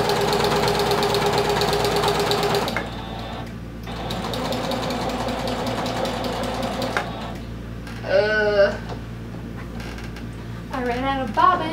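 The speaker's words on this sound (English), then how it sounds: "I'm gonna just top stitch along the bottom edge of our little pocket thing." Domestic sewing machine top stitching a vinyl pocket gives a fast close mechanical whirr in runs, pausing and restarting, with a few brief squeaky creaks toward the end.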